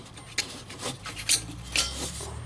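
Stock halogen bulb being worked out of a Toyota Sequoia headlight housing, giving a few close, faint plastic scrapes and rubbing clicks spaced over a couple of seconds, with no talking.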